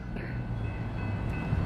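CN freight train L521 rolling eastbound through Battle Creek, Michigan: a steady low rumble of cars passing close by, with faint metallic squeals above the continuous roll.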